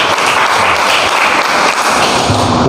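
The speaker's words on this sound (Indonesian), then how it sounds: "kasih aplaus dulu" A classroom bursts into loud, dense applause, many hands clapping quickly and steadily for a few seconds before it starts to fade.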